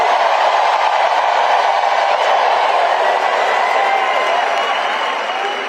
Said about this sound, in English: the largest crowd of the campaign showed up in Detroit